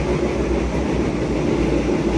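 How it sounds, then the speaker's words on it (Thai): An old Thai railway train runs steadily on rails through salt fields between Ban Laem and Mae Klong, a constant loud rumble and rattle of wagons with no pauses. "นั่งรถไฟขบวนนี้เป็นครั้งแรกเหมือนกันนะครับ"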